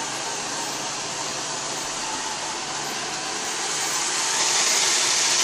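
A Roomba robot vacuum running close by, a steady broadband whir that rises slightly in loudness toward the end.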